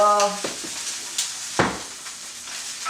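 Beans and corn sizzle in a pan over medium heat, a steady frying hiss broken by a few scrapes and stirs of the utensil, with a brief tone at the start.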